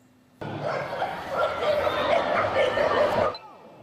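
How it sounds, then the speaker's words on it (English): Several dachshunds at the Munich International Sausage Dog Race, barking and yipping close together in a continuous excited chorus for about three seconds, with crowd noise in the background. "It was a dashing good time at the Munich International Sausage Dog Race."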